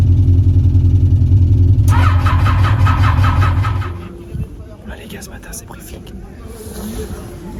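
A Mitjet 1300 race car engine cranking with a rapid, rhythmic chug, catching briefly and then dropping away into quieter clatter, with someone talking nearby.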